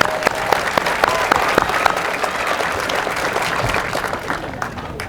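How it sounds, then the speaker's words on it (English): Audience applause at the groundbreaking ceremony for the International Dark Sky Discovery Center in Fountain, a steady wash of many hands clapping that holds for about five seconds before starting to thin. "A round of applause, please."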